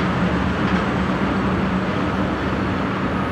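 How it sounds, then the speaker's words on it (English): The Magic Kingdom monorail passes nearby, a steady rumbling rail hum with a low drone, continuous and moderately loud, no voices over it. "It's the monorail."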